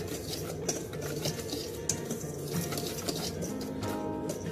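Chocolate cake batter mixed by hand in a bowl, with soft stirring and light scraping of a utensil against the bowl's side, close and continuous with occasional small knocks.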